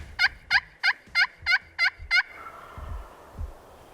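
A wild turkey near a roost during a spring hunt gobbles seven times in a quick, evenly spaced series, loud and close, then falls silent, leaving only faint rustling and low background noise.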